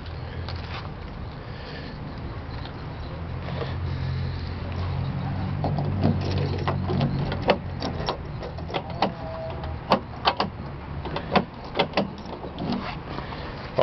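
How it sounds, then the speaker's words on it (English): Power door locks on a 454 two-wheel-drive Chevrolet Suburban actuate in a run of sharp, close clicks and clunks that grow more frequent toward the end, over low cabin hum. "Let's try the door locks."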